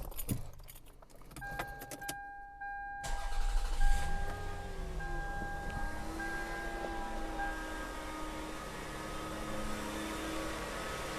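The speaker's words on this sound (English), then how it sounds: "I'm going to start the car real quick, and I'll show you the belt running." Keys jingle before a 1997-2001 Toyota Camry V6 engine cranks and catches, then settles into a steady, even idle, heard close up with a faint chime-like tone above.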